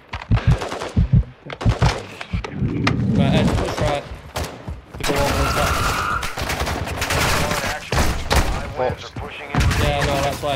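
Rapid bursts of automatic gunfire and single shots crack through a video game firefight, loud and close, with a player's voice talking in between.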